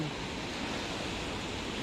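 Broadband surf of ocean waves breaking on a beach beside an eroding road in Desa Cilelang, Kecamatan Tasik, during extreme weather: a steady, continuous wash of noise with no distinct breaks or voices.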